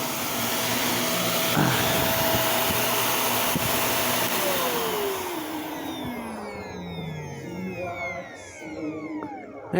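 Three vacuum cleaners roar loudly together, then one motor winds down with a falling whine while the others keep humming.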